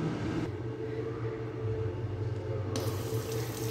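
Tap water runs into a sink for handwashing in Coacalco, State of Mexico, as a steady close rush that starts after a brief pause and grows fuller near the end. No one speaks.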